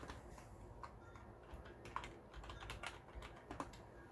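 Keys clatter on the keyboard of a twenty-year-old iMac G5 running OpenBSD, a faint, close, irregular run of soft clicks with brief pauses between bursts and no voice over it.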